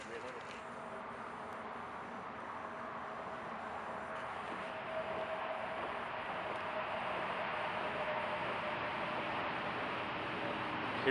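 Distant Interstate 5 freeway traffic makes a faint, steady broadband rumble that fills the background throughout, with no distinct vehicles standing out.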